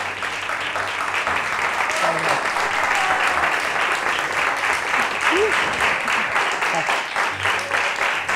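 A studio audience at a tribute event claps loudly and continuously, a thick sustained wash of applause with rhythmic pulses, faint voices mixed underneath.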